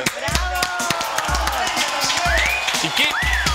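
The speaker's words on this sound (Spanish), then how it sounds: "Aplausos para Flavia" An audience on a TV talk show applauds and cheers, with dense clapping and crowd noise over steady rhythmic low beats, voices talking over it.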